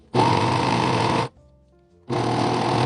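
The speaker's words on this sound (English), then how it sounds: "To start out, I'm just going to be basically sewing a big X from corner to corner." Sewing machine stitching a quilted hot pad with purple thread, running in two steady, loud bursts of rapid whirring with a short pause between them.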